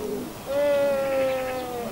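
Pigeons at a loft give a single drawn-out coo, close and clear, with faint background noise around it.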